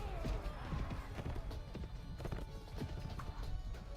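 A cattle herd's hooves clatter in the Mount & Blade Floris Expanded video game, a quick, continuous clip-clop of many animals on the move, moderately loud and steady throughout.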